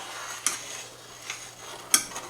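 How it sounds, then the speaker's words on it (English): A spoon scrapes and knocks around a pot of peanut butter fudge, three distinct clinks spaced over a quiet, faint background hum. "And I'm going to keep on stirring."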